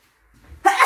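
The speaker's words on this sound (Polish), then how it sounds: "bo mnie tak kichanie teraz bierze" Sneeze from a woman with an allergy flare-up in a home kitchen, a single sharp, loud burst after a brief intake of breath.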